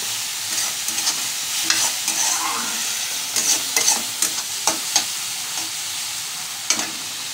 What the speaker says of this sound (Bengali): এবার একটু লাল লাল করে ভেজে নেব।